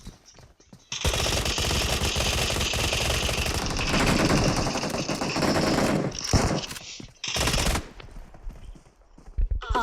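Video game gunfire rattles in long, dense automatic bursts, loud and close, with brief gaps and a few shorter volleys toward the end.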